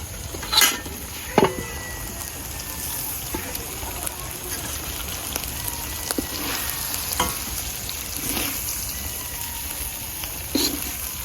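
Cooked beef tripe bhuna is served from the pan: soft oily sizzling continues while a metal spoon clinks and scrapes against it several times, close and moderately loud.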